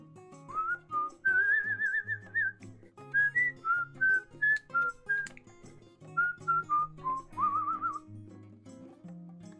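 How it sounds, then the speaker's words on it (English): A man whistles a simple tune in a string of clear, mid-loud phrases while drawing at home, with quiet soft background noise underneath and no talk. "Just whistling that for you."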